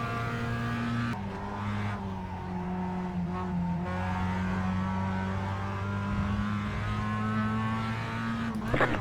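A Mazda MX5 race car lapping the Charlotte Roval in a racing game, its engine droning steadily at high revs with pitch shifts as it changes gear, close and continuous throughout.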